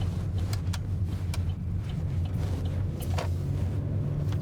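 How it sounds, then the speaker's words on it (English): A car on a road produces a continuous low rumble of engine and tyre noise, fairly loud and steady, with a few short rattling clicks over it. "There's a car coming this way."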